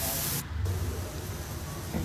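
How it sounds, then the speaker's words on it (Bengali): Crab sizzling in hot oil with ginger, garlic and turmeric, a steady close frying hiss that dips briefly then continues without pause. "এখন দিল হলুদ দিয়ে এটাকে আবার ভাজা হচ্ছে"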